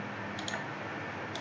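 A computer mouse gives a quick, faint double click and then a single click, alone over a quiet background hum while grids are edited in RFEM software.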